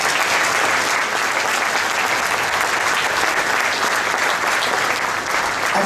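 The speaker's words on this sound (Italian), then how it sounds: "poter mandare su un grosso applauso che possa andare a tutti coloro che hanno fatto parte" Loud, dense applause from a concert audience at a Romagna music concert on stage, steady and sustained throughout without a break, with no voices standing out.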